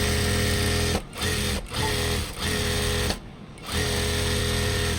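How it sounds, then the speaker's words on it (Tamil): A sewing machine runs steadily, stitching the folded side edge of a churidar top, its close, loud motor hum broken by a few brief pauses. "நம்ம என்ன செய்கிறோன்னா ஒரு மடக்கு ஒரு சைடில் அடிச்சுக்கணும்."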